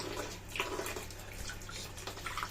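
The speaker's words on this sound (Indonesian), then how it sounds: "air mengalir untuk menghilangkan debunya saja" Saga leaves rinsed under running tap water to wash off dust, a soft close trickle and splash with scattered drips, fairly quiet and without talk.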